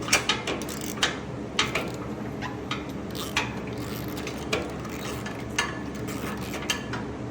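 Sharp metallic clicks and ratcheting ticks at irregular intervals over a quiet background, a socket wrench removing a spark plug from a Cub Cadet Ultima ZT1 mower engine.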